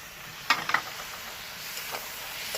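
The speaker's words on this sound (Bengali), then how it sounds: "সামান্য একটুখানি জল দিয়ে কষাবো" Poppy seed paste with ginger and a splash of water is sautéed in a pan, giving a soft, steady sizzle with a few brief clicks of stirring near the start.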